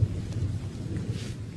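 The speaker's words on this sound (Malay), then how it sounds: "Dah hujan! Cepat!" Cartoon rain and thunder: a deep, rolling rumble with a steady hiss of rainfall, heard alone with no voices.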